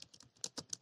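Quick, irregular clicks of typing on a computer keyboard, eight or so light keystrokes close by with no talk.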